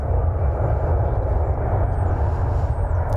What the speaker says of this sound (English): simultaneously departing American Flight 767. Not a 767, an Airbus A321neo going to Seattle.